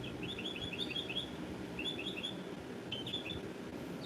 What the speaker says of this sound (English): them birds